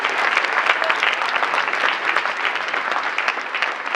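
Steady, dense audience applause fills a legislative theatre performance, loud and continuous with no pauses, many hands clapping at once.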